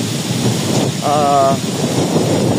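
Steady rain hisses loudly and evenly throughout, with a short tonal hum rising briefly in the middle.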